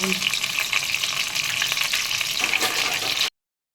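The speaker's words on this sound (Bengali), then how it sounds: "তেলটা ওদিকে ভাজা হোক" Oil frying in a pan, with vegetables and salt for a vegetarian dish, gives a loud, steady sizzle and crackle close by, without speech, then cuts off abruptly.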